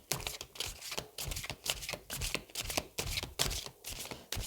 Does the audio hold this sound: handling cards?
yes